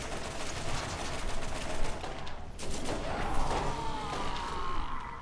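Rapid gunfire in the Borderlands video game, bursts of shots and impacts running continuously at moderate level with no talk.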